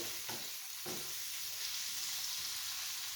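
Sausage sizzles in grease in a pan with a constant close crackling hiss, broken early by two brief scraping stirs.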